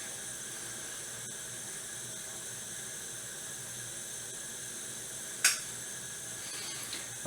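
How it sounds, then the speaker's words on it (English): Steam hissing from a heated drinks can with boiling water inside, a steady high hiss that runs throughout, with a sharp snap-like burst partway through and a fainter one near the end. "it's shooting up lots of steam through the tin can"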